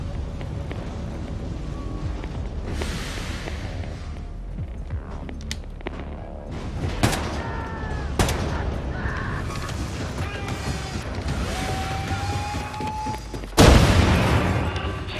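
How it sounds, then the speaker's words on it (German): Explosions and gunfire in the video game Wolfenstein II: The New Colossus: scattered sharp cracks and rumbling booms, ending in one heavy nearby blast, with no talking over them. "was ist da bitte schon explodiert?"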